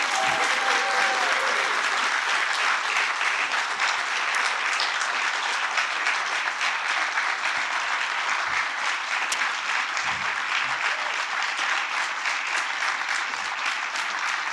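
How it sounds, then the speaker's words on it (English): Steady, dense applause from an audience at a European film festival awards ceremony, continuous and even for the whole stretch with only faint crowd murmur beneath the clapping. "really huge applause for the entire Crossing Europe team"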